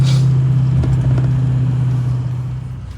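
A 2007 Ford 6.0 Powerstroke diesel truck engine idles steadily, a loud, close, low rumble that fades slightly near the end, with no talking.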